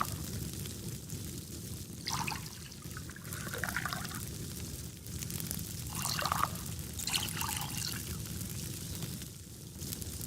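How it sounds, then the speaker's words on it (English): Water poured into a container in the Farmers Life farming game, an uneven trickling and splashing in short bursts over a steady low background hum, with no voices. "So we can fill this one with water"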